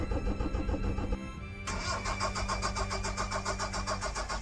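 Engine being cranked over by the starter with empty fuel lines during bleeding after a rebuild with new rings, a steady rapid chugging rhythm that briefly cuts out and resumes, close and alone.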